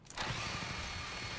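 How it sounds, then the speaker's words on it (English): A chainsaw in a video game revs up loud and close, a sustained buzzing mechanical drone that starts abruptly and runs steadily without a break. "I have a chainsaw."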